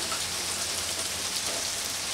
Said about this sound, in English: Can y'all hear that? That's sleet